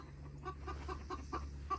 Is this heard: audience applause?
no